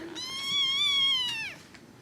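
A cat lets out one long, drawn-out meow, clear and close, that falls in pitch at the end, with quiet background between.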